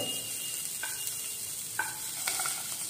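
Carrot and mixed vegetables stir-fried with onion in a hot pan give a steady, close sizzle, broken by a few sharp clicks of a utensil stirring against the pan.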